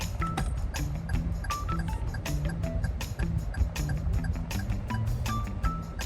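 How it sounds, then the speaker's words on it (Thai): A regular clicking turn-signal tick, setting one in a 2022 Toyota Yaris Ativ, repeats steadily, with short tonal blips mixed in over a busy background hum, fairly close and even in level. "นี่คือ เสียงสัญญาณไฟเลี้ยวหมายเลขหนึ่งนะครับ"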